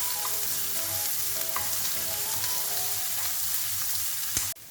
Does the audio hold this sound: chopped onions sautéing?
yes